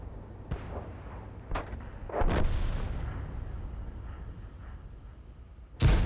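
Tank cannon shots boom in a World of Tanks battle involving a T-34-85 Rudy. There are several sharp, heavy reports over a rumbling game backdrop, with a loud blast at the end and no talking.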